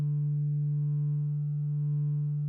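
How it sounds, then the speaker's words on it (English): A steady sine-wave tone from a Korg Wavestate synthesizer holds one pitch for the whole stretch, with a slight slow phasing wobble and no other sounds. "you should be able to hear there's still some kind of phasing going on with the sine wave"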